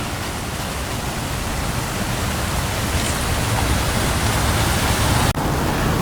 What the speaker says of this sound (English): And we got a waterfall over here.